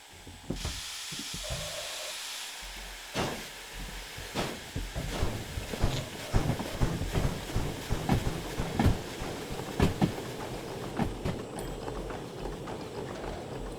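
An S282 steam locomotive in the Derail Valley game runs on rails with rhythmic mechanical clanking and clicking that builds steadily over a continuous rumble.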